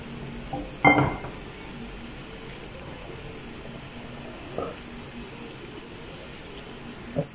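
Oil heating in a pan before crepe batter goes in gives a faint steady sizzling hiss, with a few brief clinks and knocks from the pan along the way.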